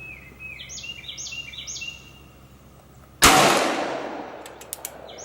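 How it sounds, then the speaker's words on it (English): A Colt Single Action Army revolver in .44 Special fires one loud, sharp shot outdoors, its report decaying over a second or more, after faint bird chirps; a couple of small clicks follow. "So we're going to take a couple shots here."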